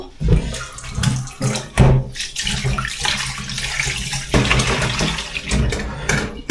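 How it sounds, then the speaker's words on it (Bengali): Soaked paneer is washed under water, with a loud close splashing and running rush that comes in uneven surges as the pieces are rinsed and handled, and no one speaks. "সবার আগে আমি ভেজানো পনিরটাকে ভালো করে ধুয়ে নেব"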